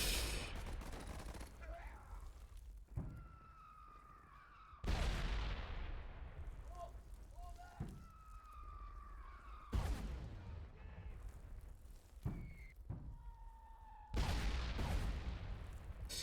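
Heavy in-game artillery fire support lands in several separate broadband bursts, each blast followed by whistling, descending tones and ringing decay, loud and close with quieter rumbling between impacts.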